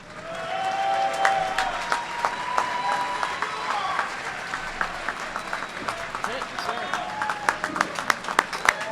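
An audience at a naval graduation ceremony applauds steadily, a dense sustained patter of many hands clapping, with faint voices mixed in underneath.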